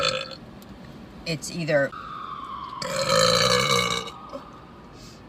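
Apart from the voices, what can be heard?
burping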